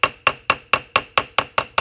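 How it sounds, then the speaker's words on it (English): Hammer tapping on the back of a screwdriver to shock-load and loosen a stuck screw during a Krag rifle repair: nine sharp, evenly spaced metallic taps about a quarter second apart, close and clear with no talking. "I'm gonna be tapping on the back of the screwdriver while I'm turning this thing"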